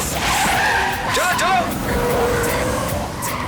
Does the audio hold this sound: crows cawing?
no